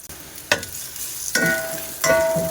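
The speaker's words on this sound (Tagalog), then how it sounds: "Unahin lang nating maggisa muna. Lagyan natin ng mantika," Ginger hitting hot cooking oil in a pan, the first step of a chicken Bicol Express sauté, gives three sharp sizzling bursts, each settling into a steady crackle close to the microphone.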